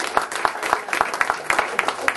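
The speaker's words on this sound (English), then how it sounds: "You give him a round of applause." Audience applause at a talk, a short burst of scattered clapping from a crowd, moderately loud and fairly close, with no speech over it.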